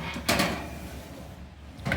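An oven door swings shut in a home kitchen while baked macaroni and cheese is being made, giving one clear thud near the start and a second softer knock at the end, both close by.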